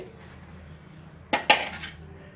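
Leftover ground coconut being added to a pot for a village-style Kannada egg-ball curry, heard as two quick metallic clanks of a spoon against the pot over low kitchen background, with no talking.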